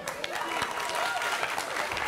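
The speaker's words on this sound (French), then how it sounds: "Applaudissez pour elle." An audience on a live television show applauds a performer, a steady dense patter of clapping with some voices mixed in.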